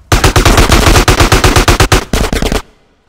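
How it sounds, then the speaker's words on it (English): Loud, close bursts of rapid automatic gunfire in Grand Theft Auto: San Andreas, a fast stream of shots with a short break before a final burst that cuts off abruptly. "Give me some fucking covering fire!"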